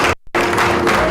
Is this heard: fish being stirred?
no